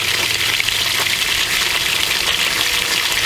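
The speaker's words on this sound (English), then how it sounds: "We're gonna go ahead and empty the fresh water tank one more time." Clean water drains from an RV's fresh water tank onto rocks as a steady, loud, unbroken rush and hiss that stays even for the whole stretch, with no speech.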